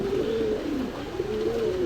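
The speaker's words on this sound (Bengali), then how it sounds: "এই এক পেয়ার আছে আপনার খুব সুন্দর কোয়ালিটির কবুতর" A pair of Pakistani high-flyer pigeons at a pigeon shop coo steadily and close by, their low rolling calls repeating over a constant background hum, with no talk.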